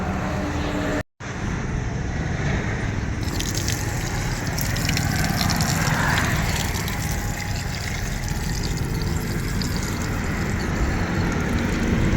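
Water gushes and pours continuously in a loud, close, steady rush, briefly cut off once near the start.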